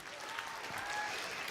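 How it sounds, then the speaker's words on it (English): Audience applause at a Christmas science lecture on fertiliser, a dense steady clatter of many hands throughout at moderate, even loudness with no pauses. "Round of applause for Nate there."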